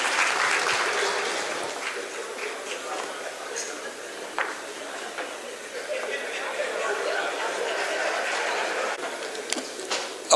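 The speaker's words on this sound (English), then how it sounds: "a round of applause for him," Moderate audience applause at an oil licensing pre-bid conference, scattered clapping from a seated crowd heard at middle distance, with murmured chatter and some speech mixed in underneath.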